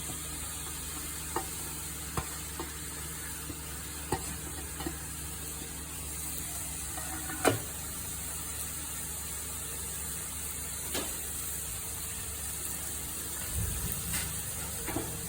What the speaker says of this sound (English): I'm going to saute all these ingredients till it is nicely cooked and the tomatoes dissolve